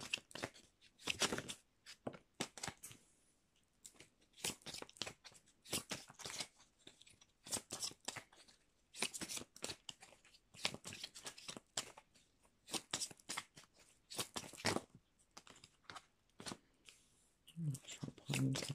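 Oracle cards being shuffled and drawn by hand, bursts of crisp riffling and flicking close up that come in clusters with short pauses between them.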